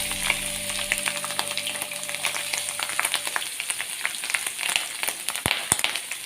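Crushed garlic fries in a pan for kakka roast, giving a steady close crackling sizzle with scattered pops throughout.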